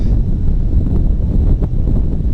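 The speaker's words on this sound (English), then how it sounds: "we've never been here when it's this windy" Strong winter-storm wind roars steadily across the microphone in woods after a blizzard, a dense low rumble with gusty buffeting throughout.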